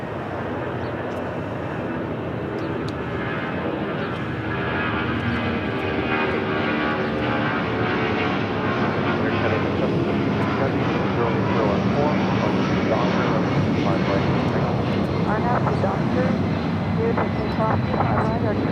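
An airliner rolls down runway 25 right at LAX, a loud sustained jet engine roar that builds and holds, with speech also present.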